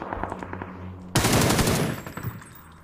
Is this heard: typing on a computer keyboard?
no